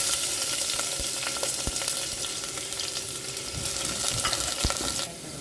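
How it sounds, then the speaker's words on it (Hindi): Chopped onion frying in hot oil with curry leaves in a pan, a steady close sizzle with occasional scraping stirs and crackles, and no talk. "और अब प्याज को ना हमें 1 मिनट के लिए भून लेना है।"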